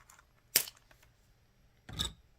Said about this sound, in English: So we'll cut the link